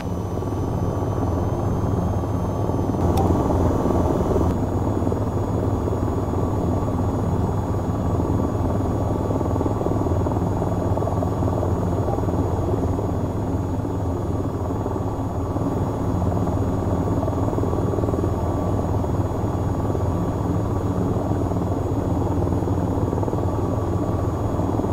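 An attack helicopter in the VR flight game VTOL VR flies on steadily, its dense rotor and turbine drone filling the cabin without pause, with a faint high electronic whine above and no talking.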